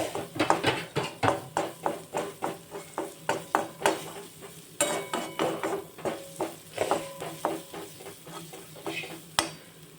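Half a cup of onion sautés with asafoetida in a pan, a spatula scraping and stirring in a quick, steady rhythm of about two strokes per second over a continuous close sizzle.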